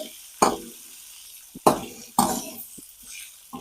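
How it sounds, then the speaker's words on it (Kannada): Chopped onions fried in a pan for avalakki chitranna, with three bursts of sizzling and stirring scrapes, close and moderately loud, no talk. "ಸಣ್ಣದಾಗಿ ಹೆಚ್ಚಿಟ್ಕೊಂಡಿರುವಂಥ ಈರುಳ್ಳಿ ಹಾಕೊಂಡು ಚೆನ್ನಾಗಿ ಫ್ರೈ ಮಾಡ್ಕೊತೀನಿ"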